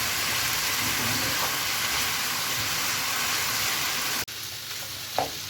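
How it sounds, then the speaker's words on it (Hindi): Chicken pieces frying in a pan with a steady, dense sizzle that runs continuously, broken by a brief cut near the end before the sizzle resumes, with no talking. "हम चिकन को जब तक कुक कर लेंगे जब तक इसका वाटर ड्राई ना हो जाए।"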